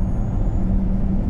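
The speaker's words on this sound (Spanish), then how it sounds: "En este momento aceleramos con poquito más de 300 caballos y no con los 500 del auto" BYD Tang EV electric SUV accelerating on the road, a steady low whir and road rumble holding at an even level throughout with no speech.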